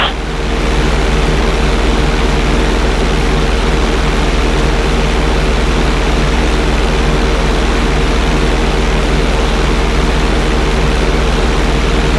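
Small propeller plane in the video game GTA V flying upside down, its engine droning loud and constant with a steady low hum throughout, uninterrupted by any voice.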